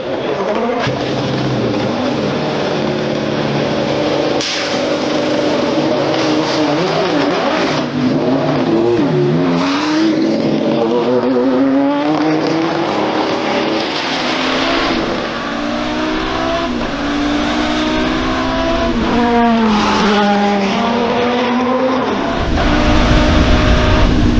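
A Porsche LMP 2000 prototype race car engine roars close by, revving up and down repeatedly with rising and falling pitch, loud and continuous throughout.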